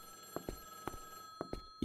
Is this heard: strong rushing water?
no